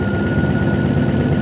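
An idling engine with a faulty knock sensor runs steadily and loudly, with a rapid tapping rhythm layered over the constant running drone.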